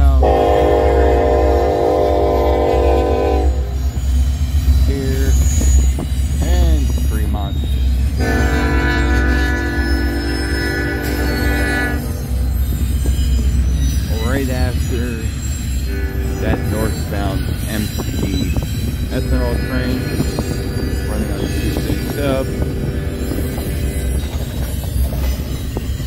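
A westbound freight train rolls through Fremont, Nebraska, with a loud, steady rumble of cars and wheels. Its air horn sounds in several long blasts over the first half, and faint wheel squeals follow.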